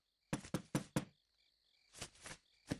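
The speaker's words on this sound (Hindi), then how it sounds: "सुनो, फिर से कोई खटखटा रहा है" Someone knocks on a door in a sharp burst of four raps, pauses, then gives a few softer knocks and one last rap. The knocks are close and stand out against quiet.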